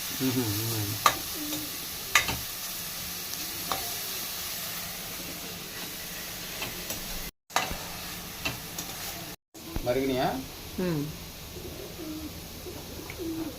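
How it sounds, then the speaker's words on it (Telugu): Carrot pieces sizzle steadily in hot ghee with occasional stirring scrapes, while pigeons coo in the background. "క్యారెట్ కొంచెం నెయ్యిలో పచ్చివాసన పోయే వరకు వేపుకోవాలి నెయ్యిలో"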